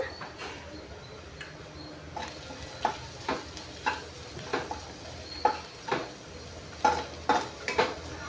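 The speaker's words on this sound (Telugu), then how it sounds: "ఇవి బాగా వేయించుకోవాలి" Chili powder, turmeric and salt fry in a pan for a paneer cashew tomato curry, with a quiet sizzle under a series of spaced spoon scrapes and taps against the pan, close and fairly faint.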